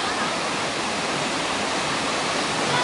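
Kawasan Falls in Cebu, Philippines, roars as a steady, dense wash of falling water, loud and close, a continuous broadband rush with no pauses.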